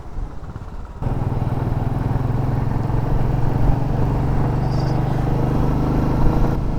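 A motorbike cruises along the winding Gap Road toward Munnar in Kerala, its steady mid-pitched engine drone running continuously and fairly close, with a rumbling undertone and slight swells in loudness.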